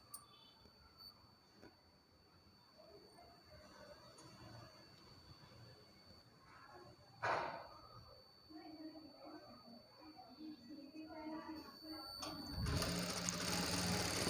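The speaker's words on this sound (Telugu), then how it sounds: "ఇప్పుడు నేను కాజా పట్టి కుడుతున్నాను" A sewing machine runs steadily as it stitches the buttonhole strip on a blouse, a faint continuous whirring that grows louder near the end.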